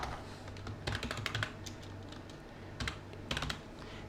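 Keystrokes on a computer keyboard as a search term is typed into circuit simulation software, in two quick bursts of close, crisp clicks separated by a quieter pause.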